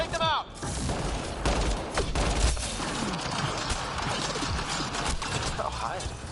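Gunfire in the Mass Effect: Andromeda video game crackles in dense, continuous volleys with sharp bursts throughout, loud and up close, mixed with mechanical clatter and voices talking over the firefight.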